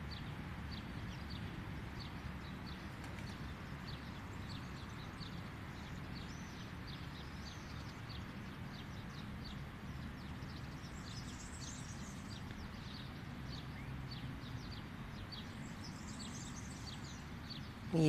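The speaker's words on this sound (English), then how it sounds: "Some lovely sounds, lots of birds in our area." Faint birdsong drifts from a distance outdoors: thin, repeated chirps and short trills carry on steadily over a constant low rumble, with no nearby voices.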